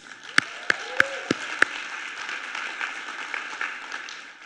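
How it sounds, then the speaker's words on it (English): Audience applause for a speaker at a children's well-being event, starting with a few distinct sharp claps and settling into a soft, steady patter of clapping. "So a big round of applause for Gavin."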